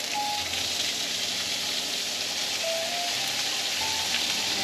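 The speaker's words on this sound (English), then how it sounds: "So we have our asparagus in the same skillet as a steak, and it's been cooking for just a couple of minutes on each side" Asparagus sizzles in a skillet beside a steak, a steady dense frying hiss with faint crackles running unbroken throughout, close and moderately loud with no talk.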